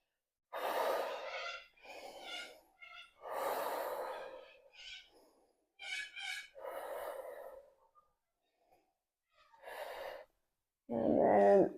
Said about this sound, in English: You're going to do your 3 breaths through your mouth and then 3 breaths through your nose and out your mouth.